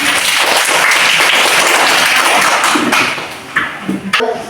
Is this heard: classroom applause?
yes